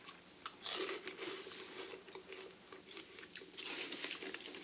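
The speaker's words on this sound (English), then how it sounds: "Good crunch, good amount, like a crisp." Green pea snack crisps crunched up close in a repeated run of sharp, crackly bites and chewing, fairly quiet, with no talk.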